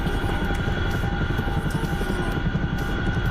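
A heavy 50,000-pound helicopter in a video game gives a loud, steady rotor thrum and engine drone, close and constant with no pauses.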